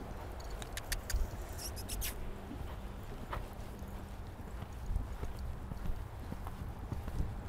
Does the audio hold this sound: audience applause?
no